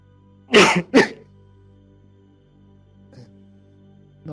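Two quick, loud throat bursts close together, like a person coughing during a conversation, followed by faint room quiet and a small later noise.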